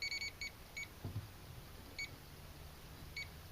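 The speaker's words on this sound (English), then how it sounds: "I'm getting little red beeps" Short, high electronic beeps from a PowerBear MY2610D clamp meter's non-contact voltage tester near an outlet chirp in small clusters and single pips, spaced irregularly over a quiet background, with a faint click partway through.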